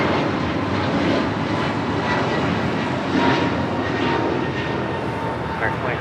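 An American Airlines A321neo jet taking off at Los Angeles International Airport makes a loud, steady broadband engine roar that holds for the whole stretch without fading.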